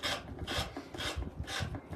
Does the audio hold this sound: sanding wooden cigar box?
yes